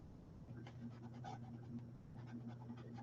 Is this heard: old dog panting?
yes